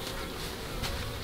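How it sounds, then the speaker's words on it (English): Honey bees hang in chains at the comb as one bee tries to get in, giving a dense, continuous buzzing hum that sounds close and loud with no talk. "The bee is trying to get in."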